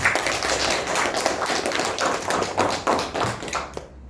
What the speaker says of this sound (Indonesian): Ya, tepuk tangan dulu untuk temannya.